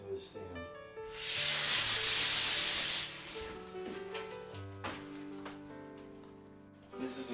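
Sanding a drywall patch on a large wall-hole repair, a loud steady scraping rasp for about two seconds, then fainter rubbing strokes over background music.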